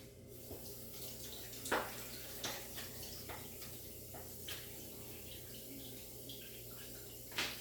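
Water running from a tap in a dental assisting setting, a soft continuous flow with occasional louder splashes and clinks over a steady low hum.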